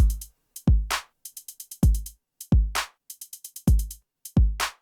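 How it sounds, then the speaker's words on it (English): A programmed drum beat with deep booming kicks and short crisp hi-hat ticks repeating in a steady loop, clean and dry with no other sounds. "you can start making a drum beat"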